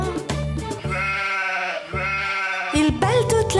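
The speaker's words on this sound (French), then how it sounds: "Il bêle toute la journée" Sheep on a farm bleat in sung, musical tones within a children's nursery song, with melodic instruments playing throughout and a couple of sustained vocal-like bleats rising over the tune.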